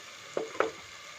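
Egg pepper masala fries softly in oil under a faint continuous sizzle, with two brief scraping clicks from the stirring spoon.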